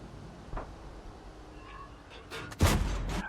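A tank cannon fires a HESH shell in a tank video game, with the M41/90 tank mentioned. A faint early thump is followed later by a loud, sharp blast that rings on for a moment.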